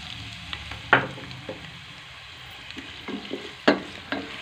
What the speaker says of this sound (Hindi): अब इसमें हम प्याज डालकर फ्राई करेंगे।